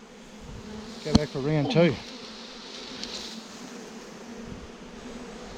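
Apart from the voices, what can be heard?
bees buzzing around a hive being moved from a log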